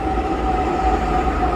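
Underground metro train in Pune, near Mandai station, with a steady, loud rumbling drone and a sustained tonal hum, continuous and close throughout.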